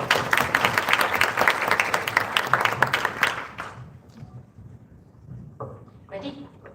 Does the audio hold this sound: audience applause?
yes